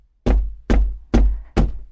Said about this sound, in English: the fisherman went to the priest's house and knocked on his door.